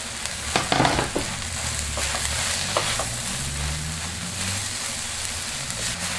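Zucchini and chicken mixture seasoned with salt, pepper, cumin and herbs frying in a pan: a steady, close sizzle with a few clacking stirs early on, continuous throughout with no talking.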